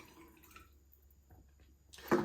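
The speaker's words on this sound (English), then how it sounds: "So I'm going to pour some water out because I want to get the right measurements." Water is poured out of a container while measuring a fill level for a Bissell Little Green ProHeat carpet cleaner, heard as a short, close splash near the end after a quiet stretch.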